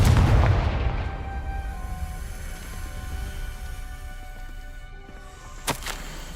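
A Confringo spell explosion in the video game Hogwarts Legacy, one heavy, deep boom at the start whose rumble and ringing tones fade away over several seconds, then a brief sharp crack near the end.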